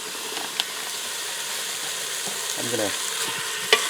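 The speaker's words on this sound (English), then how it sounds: "I'm going to put in about 2 pounds of ground beef." Two pounds of ground beef sears in a hot pressure cooker with a steady broadband sizzle throughout, a few sharp clicks and a brief scraping stir near the end, and a voice speaking briefly.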